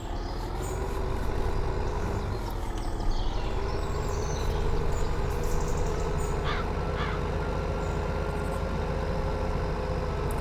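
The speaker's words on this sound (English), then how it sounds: "The horsepower hungry baler." A horsepower-hungry baler and its tractor run in Farming Simulator 2015, giving a continuous low engine drone with a rising whine near the start and a few faint bird-like calls, with no talking.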